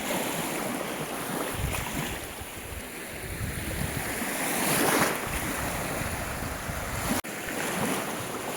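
Surf washes steadily onto a Baltic Sea beach in Latvia under heavy wind buffeting the microphone, a continuous broad roar with a brief dropout near the end.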